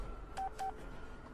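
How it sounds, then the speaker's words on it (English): Two short electronic beeps in quick succession from a mobile phone ringtone in an English-dubbed anime, fairly quiet over a faint background hiss. "That's quite a boring ringtone for a high school girl."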